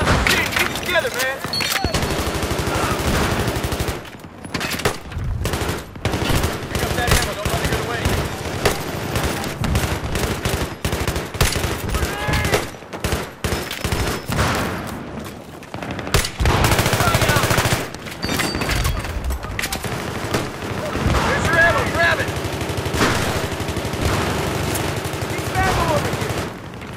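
Rapid bursts of automatic gunfire and scattered single shots in a Battlefield 3 firefight, loud and dense with brief lulls, as shouting voices cut in over the combat.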